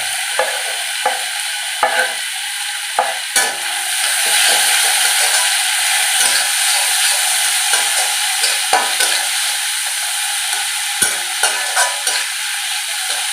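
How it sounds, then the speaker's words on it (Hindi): Tomato and a little ginger frying with browned onions for sabudana khichdi, a constant hissing sizzle broken by repeated scraping taps of a stirring spoon against the pan, no talking. "अभी प्याज ब्राउन हो गया तो अभी हम इसमें डालेंगे टमाटर और थोड़ा सा अदरक भी डाल लेंगे।"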